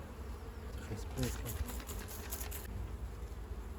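A dense, continuous buzz of many honeybees swarming close by at a hive, with a brief louder burst of wingbeats partway through.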